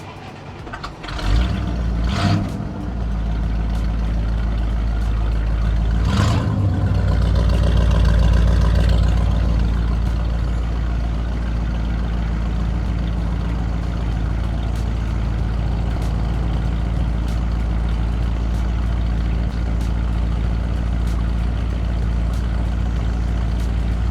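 A 1954 Cadillac Coupe Deville engine starts with a couple of sharp cranking bursts, then settles into a steady, deep low idle rumble that continues close by for the rest of the span, with no voices.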